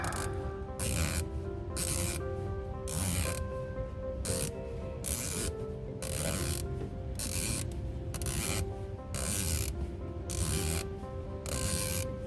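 Turrets on a Primary Arms SLx 1-8x rifle scope are turned in repeated runs of close, crisp ratcheting clicks, pausing briefly between bursts.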